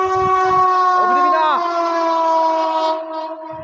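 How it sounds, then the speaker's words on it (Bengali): A through train passing Masagram station sounds a long, loud multi-tone horn blast close by, held for several seconds with a bending pitch midway before fading. "আর এদিকে আবার একটা থ্রু ট্রেন যাচ্ছে মশাগ্রাম থেকে, এই দেখে নিন, ব্যাক টু ব্যাক ট্রেন"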